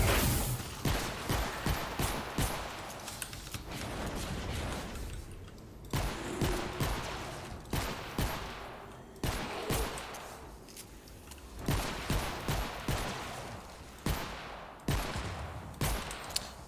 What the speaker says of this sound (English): Man, this pistol sound is so unsatisfying. It sounds so weak.